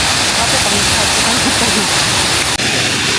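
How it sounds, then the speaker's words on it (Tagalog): Shifen Falls, a waterfall in Taiwan, roars in a dense, unbroken wash of water noise that stays loud and close throughout. "So this is the Shifen Falls waterfall."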